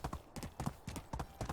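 Horse hooves clip-clop at a steady walking rhythm in the medieval life-simulation game Medieval Dynasty, with repeated paired thuds that sound close and clear and no talking.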